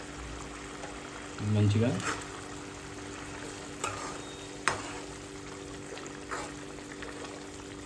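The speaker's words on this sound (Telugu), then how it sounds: "ఇప్పుడు ఘాటు పెట్టుకున్న గుడ్లని యాడ్ చేసేస్తున్నాను" Eggs slid into a pan of simmering onion gravy give a short soft splash and bubbling, followed by a quiet steady simmer with a few light clinks, while a voice speaks briefly.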